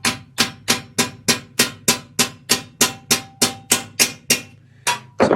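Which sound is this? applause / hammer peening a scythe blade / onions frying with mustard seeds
hammer peening a scythe blade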